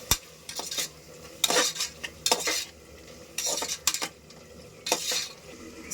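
Spices with salt and chilli powder sautéed in a frying pan, close spatula scrapes and clanks in uneven bursts over a faint sizzle, with no speech.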